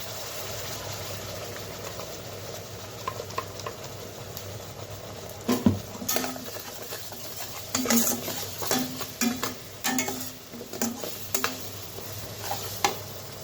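A spoon stirs spice paste into onions frying in a pan, with a steady sizzle underneath and a series of scraping knocks against the pan.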